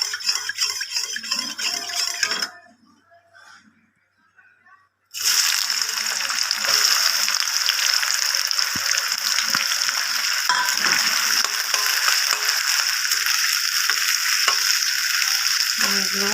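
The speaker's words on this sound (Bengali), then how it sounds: "এই পেঁয়াজগুলো আমি ভেজে বেরেস্তা বানিয়ে নেব" Finely chopped onions deep-fry in oil in a wok with a dense, loud hiss and bubbling, stirred now and then. A voice is heard at first, then comes a brief near-silent gap before the frying resumes strongly.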